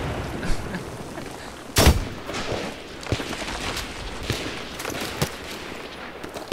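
Gunfire in the video game Battlefield 3, with one loud close blast followed by scattered lighter shots and a sustained rumbling firefight backdrop.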